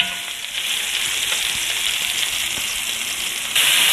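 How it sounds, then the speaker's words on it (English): Chopped onions frying in meatball drippings in a pan while being stirred, a loud close steady sizzle with faint scraping that swells briefly louder at the end. "I added my chopped up onions to the drippings in the pan, and I'm just kind of giving them a stir around for a sec"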